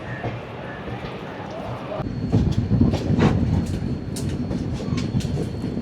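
An SMVB–Howrah AC superfast express train rolls along, a loud steady rumble with rhythmic clatter of wheels on rail joints, heard from inside the moving train.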